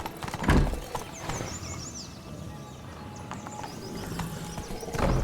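Horse hooves galloping in The Witcher 3 video game, a steady clip-clop under outdoor ambience with birdsong, plus a couple of louder thuds near the start and end.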